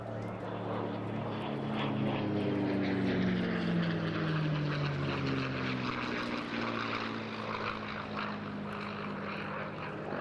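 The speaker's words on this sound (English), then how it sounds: "P-51D Mustang." A P-51D Mustang fighter flies past at the Eastbourne International Airshow, its propeller engine droning in a loud, continuous roar that slowly sweeps downward in pitch as it passes at moderate distance.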